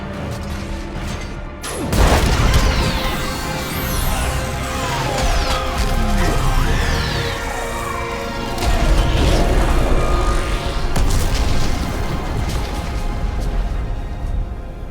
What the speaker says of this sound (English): I need an orbital strike.